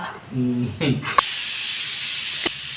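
A home pressure cooker lets off steam in one sudden loud, continuous hiss that cuts in abruptly and carries on to the end, just after a brief voice.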